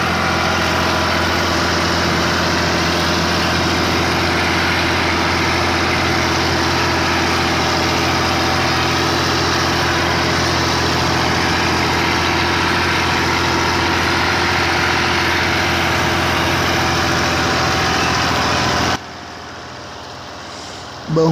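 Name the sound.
tractor engine idling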